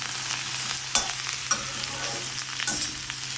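Ridge gourd chutney ingredients sautéing in a pan, a soft steady sizzle with sharp spatula taps and scrapes against the metal at intervals, close up, with no talking.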